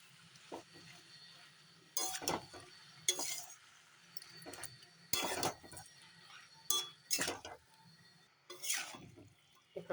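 Cabbage being stirred in a cooking pan for a fish-head cabbage dish, heard as irregular clinks and scrapes of a utensil against the pan, in sharp bursts with quiet gaps between them and no talking.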